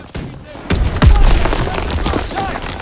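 Sharp booming shots and rattling bursts of gunfire in a busy Call of Duty: WWII battle, with a heavy low thump early on and voices speaking over the din.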